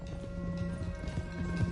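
Horse hooves clip-clopping in Red Dead Redemption 2, a steady run of hoofbeats over a constant low hum of game ambience, no voices.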